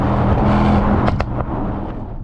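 Loud, throaty engine of a Mercedes-AMG GT63 S E Performance hybrid, a steady aggressive drone with sharp crackling pops partway through, heard close with no talking.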